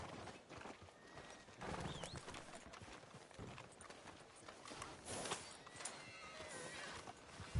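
Horse hooves clip-clopping in the video game Red Dead Redemption 2, a steady walking rhythm of close hoof beats with a brief whinny, amid soft ambient street sounds.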